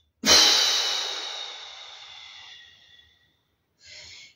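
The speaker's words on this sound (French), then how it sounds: "J'inspire par le nez, profondément. Je bloque ma respiration quelques secondes et je souffle fortement par la bouche." A single long, forceful exhale through the mouth after a deep breath, loud and close, fading out over about three seconds, followed by the brief start of another breath.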